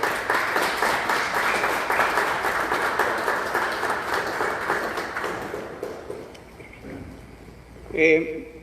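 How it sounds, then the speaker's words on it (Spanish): Audience applause at a conference fills the room, dense clapping that fades away after about six seconds, followed by quiet with a short burst of voice near the end. "Un aplauso aquí para nuestra compañera"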